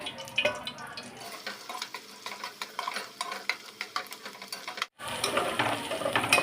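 Onions frying in hot oil with cloves and cinnamon pieces, a steady crackling sizzle broken by scraping stirs and clinks, briefly dropping out near the end before returning louder.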